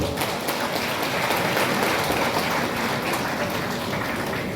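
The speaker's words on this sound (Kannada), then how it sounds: "ಸ್ವಲ್ಪ ಒಂದು ಜೋರಾದ ಕೈ ಚಪ್ಪಾಳೆ ಕೊಡಿ ಎಲ್ಲರೂ" A crowd at a Yakshagana event applauds loudly, a dense continuous wash of many hands clapping close by for several seconds.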